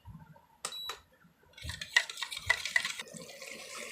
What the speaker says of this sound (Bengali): নিয়ে আমরা নাড়তে থাকবো